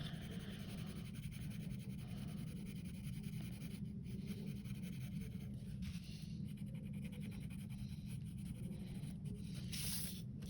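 Colored pencil strokes on black paper while shading an ice cream cone drawing, a soft, continuous close scratching with faint rhythmic back-and-forth strokes and a few brief taps.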